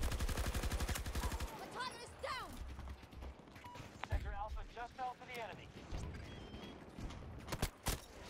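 Bursts of RPT-31 light machine gun fire in a video game, rapid rattling shots in short strings mixed with other gunfire, with a player talking over them.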